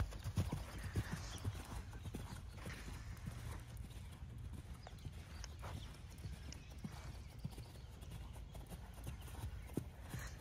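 Horse hooves thud in a steady cantering rhythm through a flat and jumping training session, continuous and fairly close, with a faint whinny now and then and no talk.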